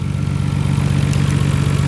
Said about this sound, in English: RB26 engine.